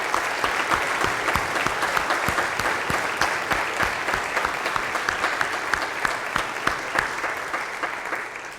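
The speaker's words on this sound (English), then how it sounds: "we all together say a special thanks to Josh with a nice round of applause" A congregation at a youth gathering gives Josh a warm, full round of applause, many hands clapping in a dense, sustained burst from start to finish.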